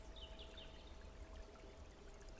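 Water flows swiftly down narrow rock steps in a soft, continuous trickling stream heard faintly at a distance.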